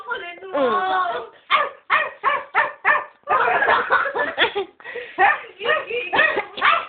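A dog barks repeatedly in quick, uneven bursts, close and loud, mixed with yips and whiny vocal sounds.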